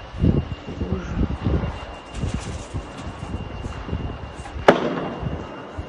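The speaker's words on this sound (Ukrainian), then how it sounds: "Та вона там взривається." Explosions in Belgorod: a series of dull booms and crackling blasts rumbles at a distance, capped by one sharp, louder detonation near the end, with wind noise throughout.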